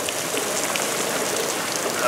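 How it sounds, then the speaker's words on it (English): Heavy rain pours down in a dense, steady hiss of countless drops hitting surfaces, continuous and fairly loud throughout. "And now we're having a freaking downpour."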